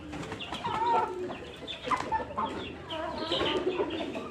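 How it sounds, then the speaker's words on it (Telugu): Several Rampur line hens cluck and chatter close by in a continuous, overlapping stream of short calls over background farm noise. "పెట్టలు అయితే మన దగ్గర వచ్చేసి ఒక 8-9 పెట్టలు ఉంటాయండి రాంపూర్ లైన్లోవి"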